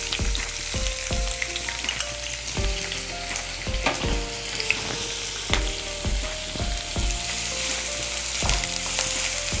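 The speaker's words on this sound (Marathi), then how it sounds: "आपल्याला तेलामध्ये ना चांगला कांदा भाजून घ्यायचा आहे असा लालसर होईपर्यंत." Chopped onion and curry leaves frying in oil for a Maharashtrian pithla produce a loud, continuous sizzle, punctuated by repeated clinks and scrapes of a spoon stirring the pan.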